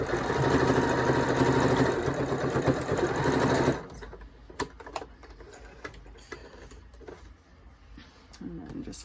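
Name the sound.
sewing machine stitching a face mask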